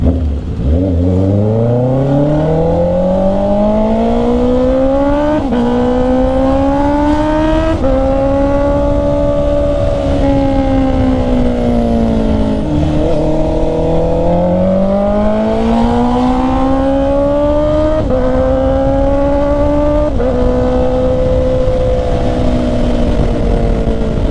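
A Honda CB650R inline-four motorcycle on the road, loud and close, its engine rising through a series of climbing revs with brief dips at each gear shift, under steady wind noise and without talking.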